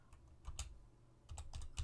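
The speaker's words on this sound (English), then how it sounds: "So let's type what we need." Typing on a computer keyboard, a few quick clusters of close, soft key clicks in an otherwise quiet room.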